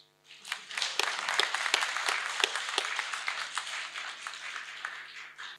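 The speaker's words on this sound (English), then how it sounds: "Everybody clap their hands for him too." An audience at a 2019 university graduation ceremony claps in a steady round, with distinct sharp hand claps standing out over a dense crowd patter that begins abruptly and tapers off slowly.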